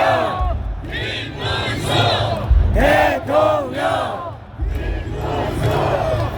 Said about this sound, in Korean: 여러분 큰 박수와 함성으로 맞아주시면 고맙겠습니다.